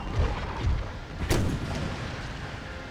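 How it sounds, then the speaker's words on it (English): Artillery fire from the Prussian army in a strategy video game, with several dull booms followed by one sharp cracking blast and a fading rumble. It sounds fairly distant over a steady background. "We've got some pretty good artillery hits."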